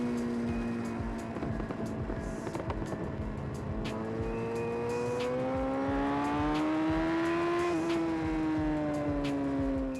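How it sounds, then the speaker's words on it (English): A Kawasaki ZX-10R superbike races around Brands Hatch Indy circuit, its engine note climbing and falling through gear changes with a loud, sustained high-revving scream and wind rush. "the bike was performing well, sounds fantastic on this track"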